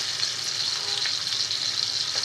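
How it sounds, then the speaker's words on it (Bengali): Pangas fish pieces sizzling steadily in hot oil in a home kitchen pan, a loud, continuous hiss with no pauses. "এখন আমি মাছটা দিয়ে দিচ্ছি। মাছটা ভেজে তারপর রান্না করব।"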